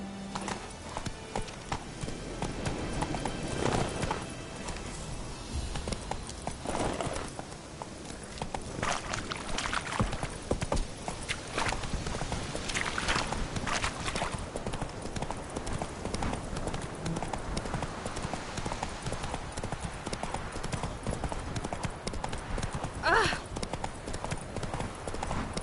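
Roach the horse's hooves clip-clop steadily at a gallop through The Witcher 3 game world, a continuous loud rhythmic patter with occasional snorts and a rider's brief shouts mixed in.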